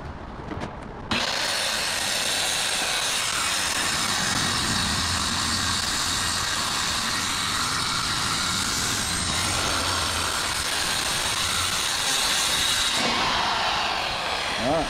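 A saw cuts through a full sheet of plywood for gussets, a loud continuous rough roar that kicks in after a second and runs steadily for about twelve seconds before easing off.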